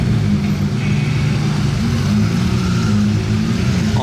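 A Ferrari F50 with an aftermarket exhaust line, in Monaco during the F1 Grand Prix weekend, sends out a loud, deep, throbbing engine rumble close by, steady for a few seconds with no voices over it.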